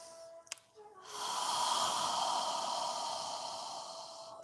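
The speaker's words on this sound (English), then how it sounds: "exhale through your mouth as if you're fogging a mirror with your breath" A single long open-mouthed exhale, breathy and hushed like fogging a mirror, close and steady for about three seconds after a brief small click and murmur at the start.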